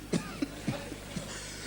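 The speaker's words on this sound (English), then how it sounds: "Characterized by, number 1, persistent cough." A persistent cough: a few short, sharp coughs and throat-clearing bursts spaced irregularly over a second and a half, fairly close and moderately loud, with no talking.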